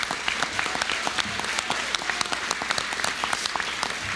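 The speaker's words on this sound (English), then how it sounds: "another round of applause for our 2014 56th annual recipient, Mr. Marty Cooper" An audience at an awards ceremony applauds an award recipient, steady clapping with many distinct sharp claps throughout.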